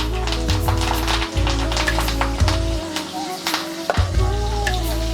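Peanuts, green chillies and curry leaves sizzle and crackle in hot oil as a tempering for tamarind rice. The frying sound runs continuously under loud background music.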